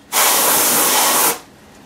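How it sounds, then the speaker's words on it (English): Canned air is sprayed through a Kisan Newton A machine in a single loud, steady hiss lasting just over a second, cutting off abruptly, with nothing else heard. "if you have a can of canned air, you want to spray it through the machine"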